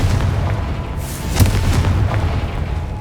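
Confringo, an explosive spell, cast in Hogwarts Legacy on PS5 bursts with a sharp blast over a steady low rumble of game ambience, then fades back into the background.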